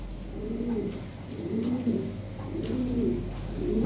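Lahori Sirazi pigeons coo in a slow repeating rhythm, three or four soft rolling calls close by over a low steady hum.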